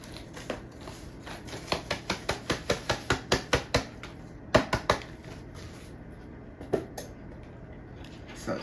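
Hand whisk beating yellow cake mix batter in a bowl, a fast run of sharp, evenly spaced taps and scrapes that speeds into a steady rhythm, then slows to a few scattered strikes.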